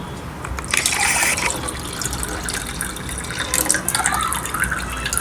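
Hot homemade cold remedy concoction poured through a sieve, a steady splashing trickle of liquid with bursts of dripping and gushing, close and fairly loud.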